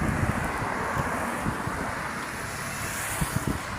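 Steady wind gusting across open ground beside the Dona Francisca cemetery, a continuous broadband rush with buffeting on the microphone and low rumbling bursts, no voices.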